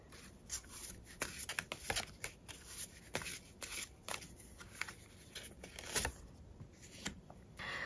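Tarot cards are shuffled and handled near the mic: a steady run of crisp paper riffles and flicks, with sharp bursts at irregular moments over a quiet background and no voice.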